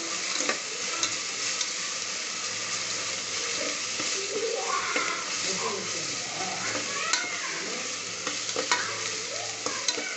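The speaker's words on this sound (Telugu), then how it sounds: "1 స్పూన్ అల్లం వెల్లుల్లి పేస్ట్ వేసుకొని అడుగు పట్టకుండా బాగా కలుపుకుంటున్నా" A spoonful of ginger garlic paste sizzles in a hot pan and is stirred steadily so it won't stick. Constant frying crackle carries through, with repeated close scrapes and light clinks of the spoon against the pan.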